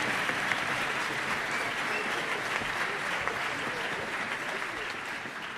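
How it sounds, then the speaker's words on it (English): A high school spring concert audience applauds for Mr. Hoffman, a dense, even wash of clapping that holds steady throughout with faint voices mixed in. "I would just like us to offer one round of applause for Mr."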